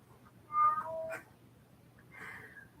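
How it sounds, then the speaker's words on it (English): A male house cat gives a drawn-out meow and then a shorter second one, fairly faint and close in a quiet room with a low steady hum. "And there's my cat."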